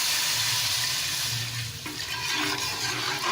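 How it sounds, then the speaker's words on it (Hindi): Water pours steadily into a pot of masala-fried chicken for white chicken pulao, a continuous close splashing gush that shifts tone slightly partway through, with no one speaking. "अब हम इसमें पानी ऐड करेंगे।"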